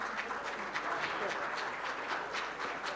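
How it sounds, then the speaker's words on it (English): Applause from the audience at a microfinance fireside chat and award presentation, a steady dense wash of clapping holding at an even level for the whole stretch, with voices faintly mixed in underneath. "Ladies and gentlemen, a huge round of applause,"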